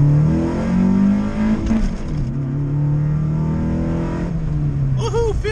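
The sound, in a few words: Honda Civic EG accelerating in first gear from 20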